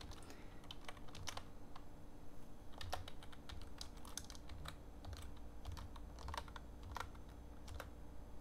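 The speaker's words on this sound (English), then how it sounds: "so I'm just pressing different keys here" Keys on a computer keyboard are pressed one at a time in irregular, sparse clicks, faint and close, over a steady background hum.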